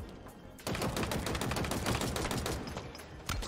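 Rapid automatic gunfire from a recoiling gun in the video game Halo Infinite rattles continuously and loudly for about three seconds, with no talking over it.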